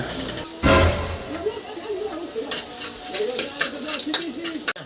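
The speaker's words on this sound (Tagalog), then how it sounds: "Gigisa lang natin ang bawang, hintay lang natin siya magkulay brown." Garlic sizzles and crackles in hot cooking oil as it is stirred, a continuous frying hiss with a loud burst near the start, while a voice talks over it.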